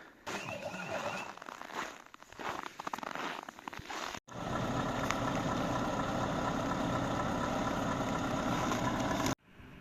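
Truck engine starting, then idling in a snowy setting, a steady close rumbling idle lasting several seconds after a brief break, preceded by a voice talking.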